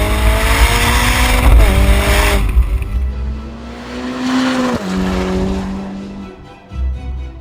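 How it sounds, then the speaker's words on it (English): A Ferrari California T convertible engine revs loudly and close in sport mode, rising and falling in pitch through several gear changes, then settling before a final burst. "So let's enjoy it one final time, the Manettino into sport, and really enjoy this engine."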